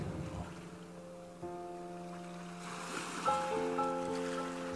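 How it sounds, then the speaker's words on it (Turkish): Ocean surf rolls in steadily, a broad wash of waves with a low droning hum of a boat engine running underneath throughout. "Okyanusun sesine doğru yürüyün."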